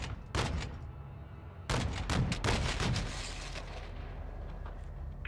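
Gunfire and heavy impacts in Call of Duty MWII: loud, sharp shots hit in an opening blast, then a rapid cluster of cracks and booms, fading into a lingering low rumble.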